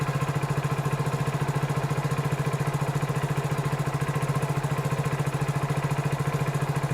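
A Hero Splendor BS6 motorcycle engine runs steadily in second gear without throttle, a close, even, rapid low thump that holds constant with no voices.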